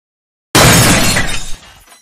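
A sudden loud crash of a vase shattering, bright glass-like fragments scattering and tinkling for about a second before fading out, after being dropped.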